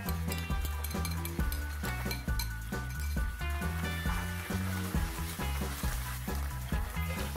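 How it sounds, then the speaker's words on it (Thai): A prepared sweet-and-sour sauce hits a pan of fried minced garlic, sizzling loudly while a utensil stirs and clinks against the metal in a steady, close rhythm with no talking. "เทน้ำซอสที่เราเตรียมไว้ลงไปเลยครับ"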